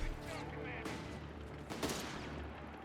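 A .30 cal machine gun firing in Company of Heroes 3 amid a dense battle mix, with bursts of gunfire and explosions layered under steady game noise.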